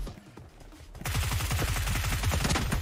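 Sustained rapid automatic gunfire in a team deathmatch shooter game, starting abruptly after a quiet moment and continuing as a dense, loud, close stream of shots.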